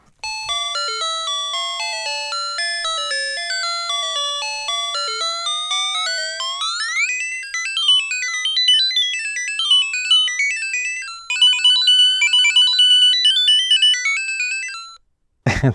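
A bright electronic tune of beeping tones from a Talk 'N Learn Alphabet toy plays steadily, its pitch sliding upward midway as a potentiometer is turned, continuing in quick stepped notes before cutting off.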